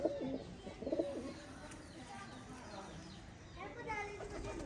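Pigeons of a Sialkoti breeder's stock coo in a loft, with soft repeated coos near the start and again toward the end, and occasional chirps over a steady background hum.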